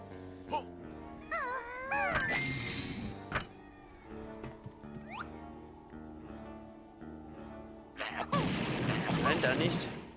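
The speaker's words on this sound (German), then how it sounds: "Ich meine, es war irgendwie, dass man eine Granate dagegen schießen sollte" Explosive grenade shots in the Banjo-Tooie video game, with booming blasts and bursts of game effects and chirpy character sounds, moderately loud with no talk.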